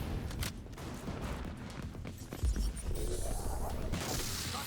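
A rapid burst of gunfire from The Division 2 video game, with a cluster of sharp shots followed by a low thud and steady game background noise and no talking.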